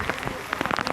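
Monsoon rain falls on the Lohagad fort trek as a brief, close patter of drops striking surfaces, with a faint voice nearby.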